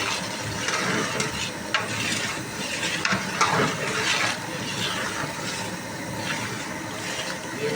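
Beef pieces frying with spices in a pot for Bannu beef pulao, a steady soft sizzle and hiss with occasional stirring scrapes and clinks, fairly quiet and continuous, with no one speaking.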